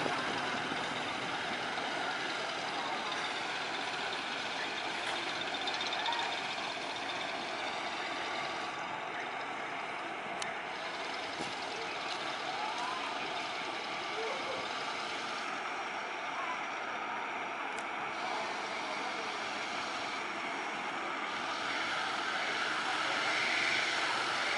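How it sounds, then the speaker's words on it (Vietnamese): A steel barge motors along a narrow canal, its engine giving a steady, droning hum that carries on for about twenty-five seconds at moderate distance. "Ủa chiếc này tiếng máy nghe dữ vậy ta, nghe hiu hiu dữ."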